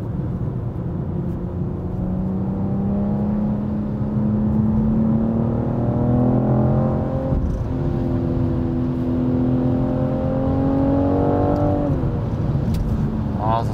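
A BMW M440i G22 with a 275 kW inline-six pulls hard, its engine note rising through the gears in long climbing sweeps, loud and close from inside the cabin with someone talking over it.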